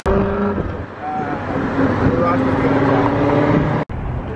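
A car drives as a follow car during SEMA week, shadowing a slammed FCR X7 for filming; steady road and engine noise runs throughout with people talking over it.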